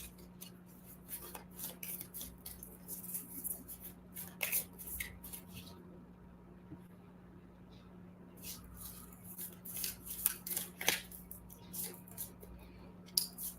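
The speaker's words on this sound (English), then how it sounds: "Let me pull a few more other cards for you guys." Tarot cards being pulled, shuffled and handled close up during a card reading, soft papery slides and flicks recurring irregularly over a steady low hum.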